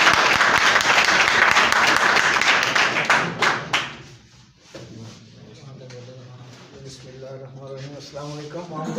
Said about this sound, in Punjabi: ਤੁਹਾਡੀ ਭਰਪੂਰ ਤਾਲੀਆਂ ਨਾਲ ਇਸਤਕਬਾਲ ਕਰੋਗੇ